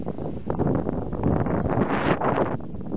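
A steady broad whoosh comes from the rotor of an Adwen 8 MW offshore wind turbine in Bremerhaven. The rush stays continuous and fairly loud throughout and mixes with wind buffeting the microphone.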